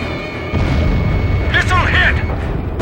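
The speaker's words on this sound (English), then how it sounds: "Missile hit!" In the Ace Combat 5 jet combat game, a missile strikes an enemy plane with a sudden booming blast that settles into a sustained rumble, while a radio voice cuts in over it.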